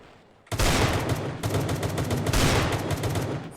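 Firecrackers going off outdoors in a rapid, continuous crackling barrage after a brief quiet start, loud and dense with short pauses between bursts.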